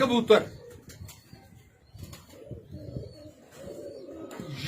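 Pigeons cooing in soft, low, repeated burbling calls, close by, with a brief flutter or scuffle at the start and quiet gaps between calls; no voices heard.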